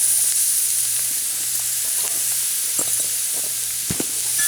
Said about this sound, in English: Go ahead and stir them into that roux.